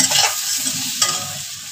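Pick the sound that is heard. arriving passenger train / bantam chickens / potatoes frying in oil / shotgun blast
potatoes frying in oil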